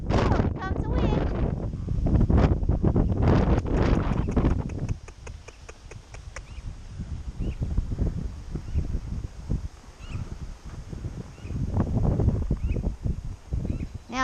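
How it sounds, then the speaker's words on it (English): Gusty wind buffets the microphone during a horse ride, a rumbling, blustery roar rising and falling alongside rhythmic hoof clip-clops, with a rider's voice speaking at times. "here comes the wind"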